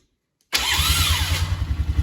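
A Polaris Sportsman ATV engine catches abruptly after silence and settles straight into a loud, close, throbbing idle with a rhythmic low pulse.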